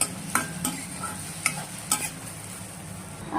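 Chicken pieces frying in hot oil in a pan while being stirred until golden for a chicken gravy curry. A steady close sizzle runs throughout, with sharp scraping stirs of a spoon against the pan at irregular intervals.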